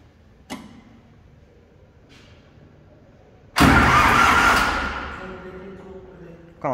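After a few faint clicks, a New Holland 3230 three-cylinder tractor engine, in neutral, suddenly cranks and catches with a loud roar, then settles into a steady, fading rumble.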